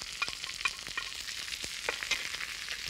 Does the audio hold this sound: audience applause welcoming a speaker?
no